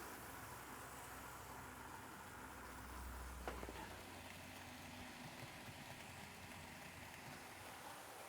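A steady, rough motor hum drones throughout with a low rumble swelling in the middle, the small motor of a Roco model train locomotive running close by.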